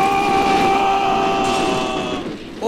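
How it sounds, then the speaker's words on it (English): A sustained, loud train horn blares over the rumble of a passing train in the BeamNG Drive driving game, holding steady before fading out near the end. "Oh my God, train!"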